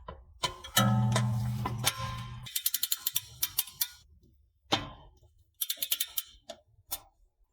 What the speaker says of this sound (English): Loosen with the long wrench first.